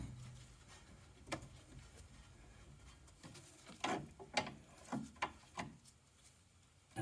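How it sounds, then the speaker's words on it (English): Faint metallic scraping and a few sharp creaks and clicks come from an 11mm wrench working loose the front brake line on a Mk1 Audi TT Quattro, with quiet stretches between the efforts. "now we just undo the brake line at the front with the 11mm"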